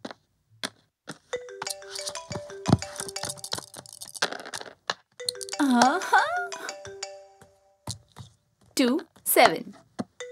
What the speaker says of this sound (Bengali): মা, ফোন এসছে।